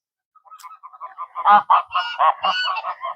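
A flock of geese honks in a rapid, overlapping burst of nasal calls that builds from scattered single honks to loud, close clamor, with no talking over it.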